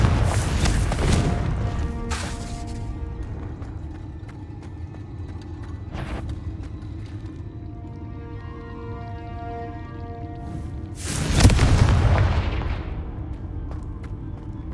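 Confringo blasting-spell explosions from the Hogwarts Legacy video game: a loud burst at the start, a sharp crack near six seconds, and another heavy blast around eleven seconds, all over a steady low game ambience.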